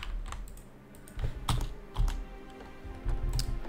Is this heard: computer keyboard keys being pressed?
yes